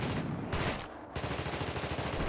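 Rapid, sustained video game gunfire in dense overlapping bursts, loud and close throughout, with a short lull near the middle before the shooting resumes.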